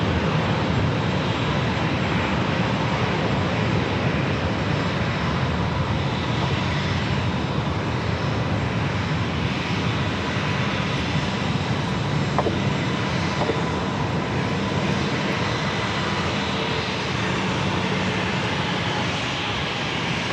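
A Delta airliner takes off at San Diego airport, its engines a loud, continuous broadband roar that holds steady and close for the full stretch.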